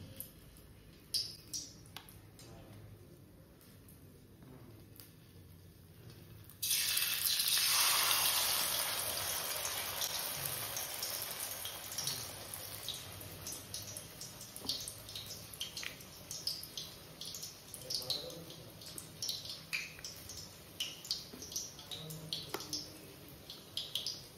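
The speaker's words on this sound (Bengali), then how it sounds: "দেখো ভাজা হচ্ছে" Battered flowers fry in oil that sizzles and crackles steadily in a pan after a sudden onset, a continuous bright hiss dotted with small pops and spits.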